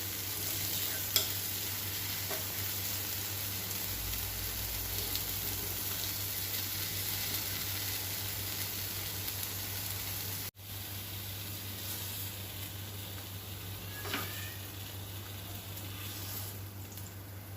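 Carrot egg balls fry in a pan, a steady soft sizzle and hiss continuing throughout, with a brief scrape as they are turned over partway; fairly quiet and close, with no talk.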